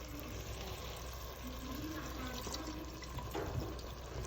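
Marsala wine poured into a pot of French onion soup, a soft continuous liquid splash and trickle running steadily throughout, fairly faint against low kitchen background noise.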